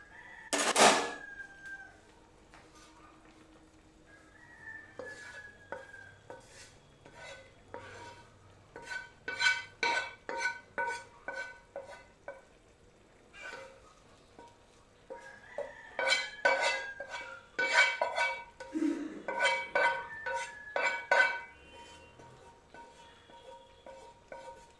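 Fried small shrimp are stirred into cooking Malabar spinach and taro in a pan, with a spatula clinking and scraping in quiet, irregular bursts, close and fairly soft.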